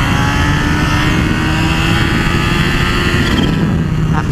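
A 2018 Kawasaki H2 SX SE supercharged motorcycle accelerates in second gear with the throttle wound on, giving a steady loud engine and rushing wind roar with the pitch climbing slightly as boost builds.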